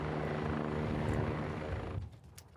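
A Sécurité Civile rescue helicopter at the Nîmes-Garons base makes a loud, steady rotor and engine roar close by, then fades sharply near the end.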